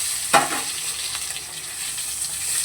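Potatoes fry in a small amount of oil seasoned with cumin and a bay leaf, giving a steady close sizzle that opens with one sharp clatter as the pieces are moved, then settles into even crackling.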